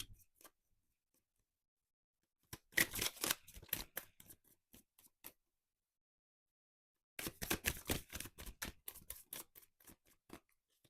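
Tarot cards being shuffled and drawn during a reading, two bursts of crisp, close riffling and flicking separated by near silence.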